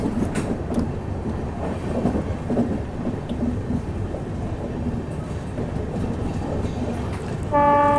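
A Mumbai Howrah Duronto Express rumbles steadily around a sharp curve, with a continuous close rolling roar and faint wheel clatter throughout, and a brief horn-like tone near the end.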